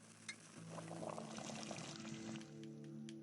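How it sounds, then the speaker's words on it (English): Water pours quietly and steadily for a few seconds in the Pathos video game as the character fills a vessel and drinks, with a soft, continuous trickle and no talk. "I will drink my water."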